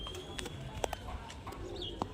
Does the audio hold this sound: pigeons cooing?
yes